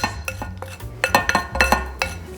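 Chocolate chip cookie dough being stirred in a bowl, a quick series of close, rhythmic scrapes and clinks of a utensil against the bowl.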